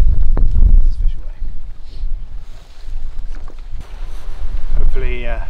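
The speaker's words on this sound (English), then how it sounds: "Obviously it's really windy, so I'm not surprised if that's all just going to be noise." Heavy wind buffets the microphone outdoors during pike fishing, producing loud, rumbling low gusts that swell and ebb, with a brief voice surfacing near the end.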